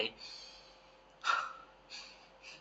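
A person draws breath in and out through the nose, a few soft airy sniffs and sighs close to the microphone, with one stronger inhalation in the middle, a demonstration of breathing in air.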